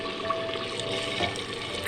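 About 1.25 litres of water, roughly five cups, pours steadily into a handi cooking pot for chicken nihari, a continuous close splashing fill with no talk over it.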